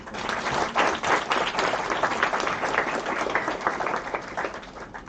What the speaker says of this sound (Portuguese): Palmas para a Lídia.